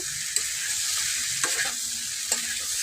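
Paneer and peas masala sautéing in a pan, with a steady close sizzle of hot oil and a few sharp scrapes of a spatula stirring the mixture.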